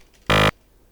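A single short synthesized tone from a tone pack, a bright buzzy harmonic burst lasting about a quarter second, loud and alone over faint background.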